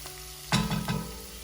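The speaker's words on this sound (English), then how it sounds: "Now the onions are starting to soften nicely there." Onions frying in a pan with whole spices for a spiced butternut squash and carrot soup, a soft sizzle that swells briefly as the pan is stirred, near and without talk.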